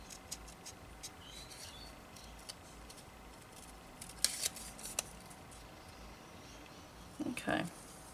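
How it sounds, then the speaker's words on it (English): Scissors snip through paper while a small Christmas card is cut out, the cuts coming as a few faint, brief crisp snips over a quiet background. "It doesn't take very long to cut out something like this."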